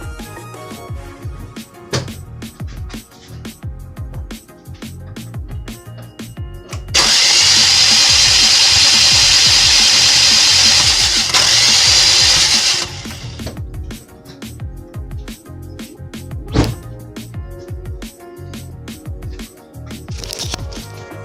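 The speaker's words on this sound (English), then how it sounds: "we're gonna turn it over with the fuse pulled for the EFI" A Toyota Paseo engine, spark plugs pulled and EFI fuse removed, is turned over by the starter. After scattered clicks and knocks, a loud, even cranking whir holds for about five seconds, then stops and the clicking resumes.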